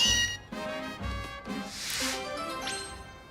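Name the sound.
Meowth cat meowing in a Pokémon video game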